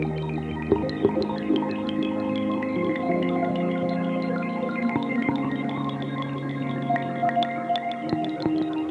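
A Line 6 Pod HD 300 guitar processor plays an ambient, waterfall-like effect patch: layered sustained guitar tones shimmer steadily, sprinkled with bright, dripping plinks throughout.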